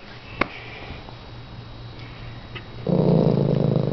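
A dog gives a low, rumbling growl near the end, after a few quiet seconds that hold only a faint click.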